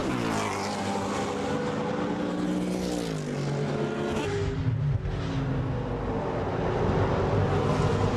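GT1 race cars sweep through turn 12 at the Slovakia championship race, a loud continuous engine roar with shifting, rising and falling pitch as cars pass close by, dense and unbroken.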